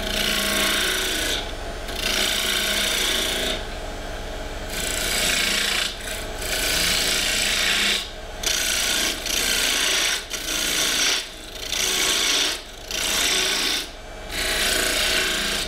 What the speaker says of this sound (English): I have lathe speed back up, and I'm using my new fingernail guide